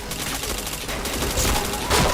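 Rapid bursts of gunfire in a first-person video game shooter, dense crackling shots packed close together over a couple of seconds, loud and near with no talk.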